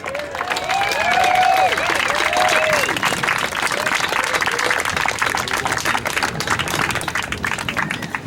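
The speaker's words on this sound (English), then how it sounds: "How about a round of applause for Da Hui?" Crowd applause fills an outdoor GMO march in Hale'iwa, a dense, steady wash of clapping with a few whistles and cheers near the start, holding loud for the full length.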